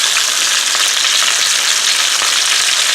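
Fish fries in a pan with a loud, steady, dense sizzle and crackle of hot oil, with faint clicks and spatters now and then and no voices.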